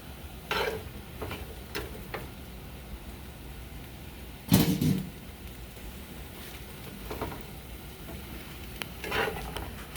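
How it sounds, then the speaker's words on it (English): Meat, mushrooms and onions sizzling in a pan with a little grease: soft steady sizzle broken by a few scraping stirs and one louder clatter of utensil on pan, no talk. "So all I'm doing is just cooking down these mushrooms and these onions."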